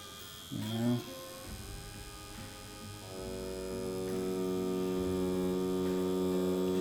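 A wireless tattoo machine buzzes with a steady electric hum against a drawing table beneath it, the tone shifting and growing slightly louder midway, with a brief soft sound near the start.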